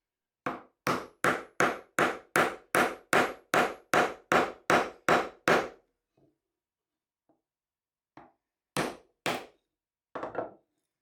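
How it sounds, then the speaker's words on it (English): A steel chisel driven with a hammer into a wooden board across the grain: a fast run of about a dozen sharp, loud, evenly spaced strikes, then a pause and a few scattered single blows, close and with no talk. "I have my chisel, and you can see the chisel's gone in like halfway and it still hasn't split it"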